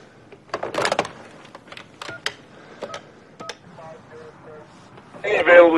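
A telephone keypad in an action movie hostage scene sends a quick run of sharp, close dialing tones. The beeps are irregularly spaced and are followed by a louder burst of noise at the end.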